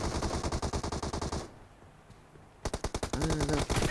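Rapid automatic gunfire in PUBG team deathmatch: a long, steady burst of evenly spaced shots, a short lull, then another fast burst that runs close and loud to the end.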